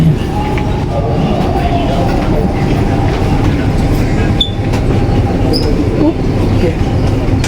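Riding inside a Dubai Metro Red Line train: a steady, loud rolling rumble of wheels and carriage runs throughout, with a faint brief squeal of wheels on rail near the end.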